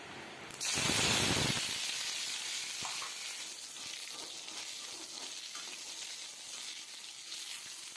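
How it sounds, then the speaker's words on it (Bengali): Curry leaves drop into hot oil with tempered spices, a sudden loud burst of sizzling and spattering that settles into a steady crackling fry that carries on. "এখন তাতে দিয়ে দিচ্ছি আমি কটা কারি পাতা।"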